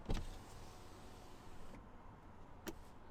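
Power windows of a Peugeot e-2008 electric SUV whirring as the glass moves, a steady close motor hum in a quiet cabin, with a soft thump partway through and another near the end.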